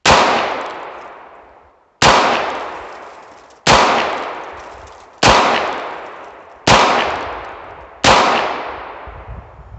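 Six loud, sharp gunshots from a Heritage Barkeep revolver firing CCI Maxi Mag .22 Magnum rounds at an outdoor range, evenly spaced about 1.5 seconds apart, each with a hard crack and a decaying echo tail.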